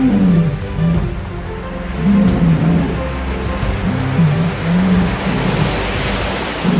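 Dominant male sea lions defending territory on a crowded shoreline, giving repeated deep, throaty roars in bursts over a constant rushing wash of surf and colony noise, fairly close.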